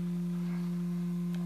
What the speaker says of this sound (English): Let's look at the sine wave.